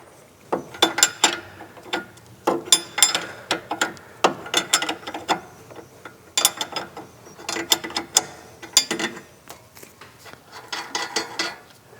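Ratchet-like clicking bursts from a wrench loosening the nut on a Mustang strut bolt during an S550/S650 coilover strut install, coming in short repeated runs with brief pauses, close and fairly loud, with no talking.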